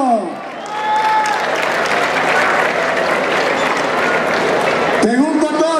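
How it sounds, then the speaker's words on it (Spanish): Rodeo crowd at a bull-riding tournament bursts into sustained applause, a dense wash of clapping lasting several seconds before breaking off, with an announcer's voice briefly at the start and end. "Arielita de Acatlán, venga el aplauso."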